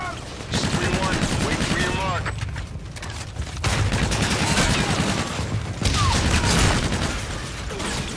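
Rapid gunfire bursts from a PC first-person shooter, Call of Duty: Infinite Warfare, fill most of the clip with dense, loud automatic shots and mechanical clatter, briefly easing in a couple of short gaps before resuming.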